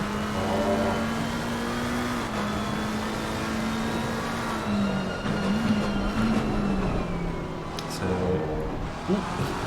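A mid-engine GT3 race car engine drones steadily in Assetto Corsa Competizione at Silverstone, pitch shifting with gear changes, while a commentator talks over it.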